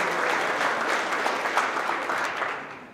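Sustained applause from an indoor crowd at a company monthly celebration, steady and loud for a few seconds before tapering slightly at the end.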